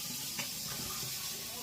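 Greens being washed in cold water in a kitchen sink, a steady faucet hiss and splashing running continuously at a moderate level, with a brief louder splash near the start.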